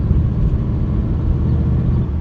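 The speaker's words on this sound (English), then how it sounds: "cruising at 25 miles an hour in second gear" A 1940 Mercury Eight car cruising at about 25 miles an hour in second gear, its engine a loud, steady low rumble heard from inside the cabin with no voices.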